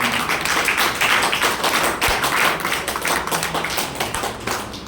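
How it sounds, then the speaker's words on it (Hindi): An audience at a seminar presentation breaks into loud, sustained applause, dense overlapping claps filling the room evenly for several seconds with no speech over it. "चलिए एक बार जोरदार तालियां बजा दीजिए सब, जोरदार।"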